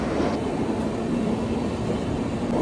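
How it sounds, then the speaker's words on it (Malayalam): A Chennai-bound passenger train passes near Kuttippuram in Malappuram district, Kerala, a steady loud rumble of wheels and carriages throughout, with no voices. "ചെന്നൈ വണ്ടിയാണ്."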